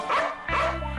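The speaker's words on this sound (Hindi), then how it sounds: "ये डॉग मुझे बहुत परेशान करता है। जब भी जहाँ भी मुझे देखता है भौंकने लग जाता है।" A cartoon dog gives two quick, near, loud barks, spaced about half a second apart, with no talk over them.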